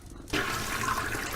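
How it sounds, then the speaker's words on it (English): A toilet flush in the video game Deponia 2 starts abruptly after a short pause, a loud, close, steady rush of water that continues to the end without any voices. "Кнопку слива теперь нажимаем."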